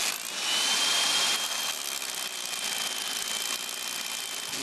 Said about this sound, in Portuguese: E agora estamos furando as primeiras 5 fileiras do lado sul.